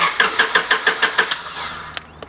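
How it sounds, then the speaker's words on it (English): A Honda Civic with a crank-no-start fault and no fuel reaching the fuel line cranks repeatedly, a rhythmic series of about eight starter whirs that slow and fade before stopping, close and loud, without catching. "Alright, try and start the car."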